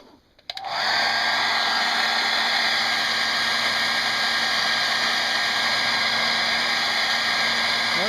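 A hair dryer switches on and blows a loud, steady whir over a watercolor painting, a constant even roar holding without change after a brief click at the start.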